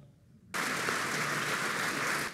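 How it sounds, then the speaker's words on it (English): Audience applause at an event about New York mayor John Lindsay bursts in abruptly after a near-silent moment and holds steady, even and full for about two seconds before cutting off. "You're allowed to applaud"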